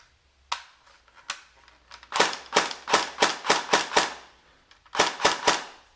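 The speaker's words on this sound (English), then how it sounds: "It sounds much happier in full auto than it did in single shot." A WELL R4 MP7-clone airsoft submachine gun fires in full auto, sharp clustered bursts of rapid mechanical shots at a moderate rate, close and loud, with short pauses between strings and no talking.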